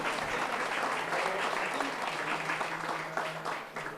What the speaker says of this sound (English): Please, a huge round of applause for all of our panelists.